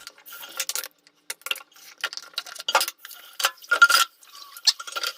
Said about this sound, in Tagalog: Maghugas ng pinggan.